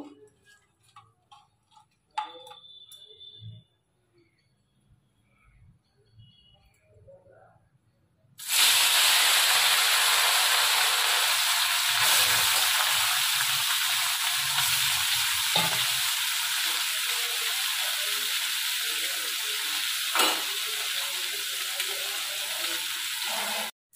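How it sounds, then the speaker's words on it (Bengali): Small fish frying in hot oil in a wok, a loud steady sizzle that starts abruptly after a quiet stretch of faint clinks and handling, with brief pops and crackles as it continues. "তো চলুন কড়াইটা গরম হয়েছে, তেল দিয়ে নিয়েছি, এবার মাছগুলো ভেজে নেবো।"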